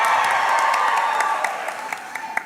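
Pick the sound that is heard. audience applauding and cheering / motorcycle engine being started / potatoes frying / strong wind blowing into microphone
audience applauding and cheering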